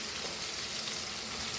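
Ingredients for Goan cabbage foogath fry in a pan with a steady, soft, continuous sizzle, fairly quiet and close, with no voices.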